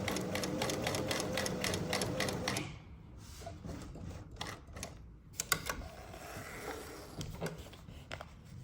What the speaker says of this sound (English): I'm gonna sew this side of the elastic into the channel, into the space.